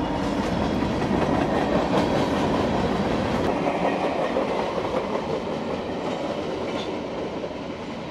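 A local freight train back from a distribution center rolls past on a spur line near Lakeland, a loud, steady rumble of wheels and cars with rhythmic clickety-clack that fades slightly toward the end.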